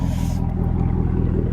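A Chevrolet Camaro SS with a muffler delete idles in a deep, close, steady rumble with a faint lumpy pulse, and no clear revving within the short stretch.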